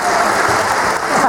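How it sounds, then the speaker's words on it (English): Audience applause after a talk on seals and sea lions, a steady dense patter of many hands filling the short moment without a break. "well done you for such an applause"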